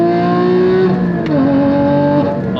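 A modified Porsche Cayman GT4 with a 6-speed manual accelerating hard on throttle, a loud close engine note climbing steadily with one brief dip at a gear change, then rising again.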